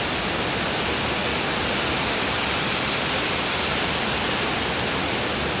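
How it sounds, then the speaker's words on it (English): Water of a small fall in a brook roars in a loud, unbroken broadband rush from close by, with no pauses or other sounds standing out. "This is the fall in the brook from another angle."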